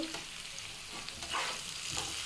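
Brinjal palya cooking in a pan, one of several vegetable palya dishes for a Sankranti Bhogi festival meal, gives a steady close sizzle and frying hiss with faint stirring scrapes, and no voices.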